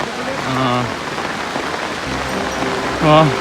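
Heavy rain drums steadily on a surface during flooding in Chittagong, with a voice talking briefly over it at the start and again near the end.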